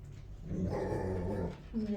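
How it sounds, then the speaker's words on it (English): Dogs make low growling and whimpering noises close by, with short yips, under a voice speaking in a home. "Even my dogs make noise."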